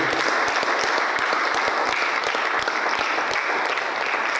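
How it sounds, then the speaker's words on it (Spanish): A church congregation applauds in praise, a dense, steady wash of many hands clapping at even loudness throughout, with sharper individual claps standing out now and then. "Vamos a darle un fuerte aplauso a Dios"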